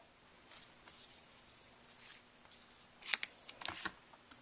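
Scissors cutting ribbon for a bow on a handmade vintage-style card: quiet rustling and handling, then a couple of crisp, close snips, faint and with no talking.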